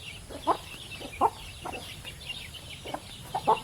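Parrot-beak chickens, a prized breed, give a handful of short clucks at close range, spaced irregularly over a quiet background hiss.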